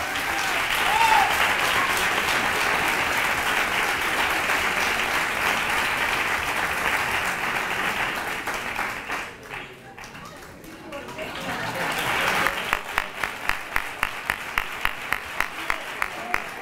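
A crowd applauds at a Three Kings coronation ceremony in Nerva, a dense sustained ovation that dips briefly and then returns with sharper, rhythmic claps as an announcer speaks.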